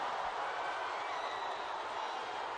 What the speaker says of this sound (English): You'll hear boos and cheers